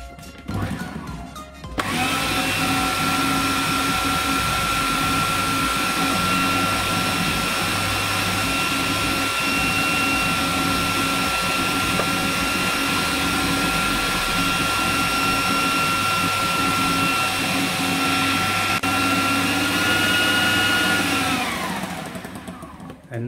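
A blender purées garlic sauce with a steady, loud motor whir lasting about twenty seconds. The sound starts abruptly and winds down at the end.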